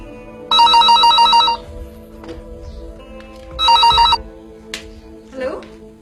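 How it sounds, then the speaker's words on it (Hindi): A telephone rings in two loud, bright electronic bursts in a Pakistani TV drama scene, with quieter sounds and a voice between the rings. "मेरा तो ख्याल था कि अब तुम्हारी जगह शेरजान फोन उठाता होगा।"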